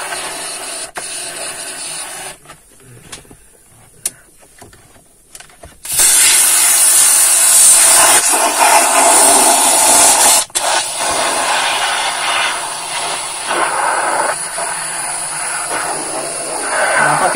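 AC cleaner sprayed into a car's air conditioning system to clear hardened dirt, a loud, steady hiss that runs unbroken from midway to the end, after quieter, scattered handling noises.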